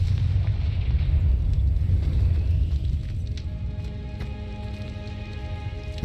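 A Confringo fire spell bursts in the video game Hogwarts Legacy, a loud, rumbling explosion with a deep low roar that lingers and slowly fades, with faint crackling on top.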